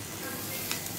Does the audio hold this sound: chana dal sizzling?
yes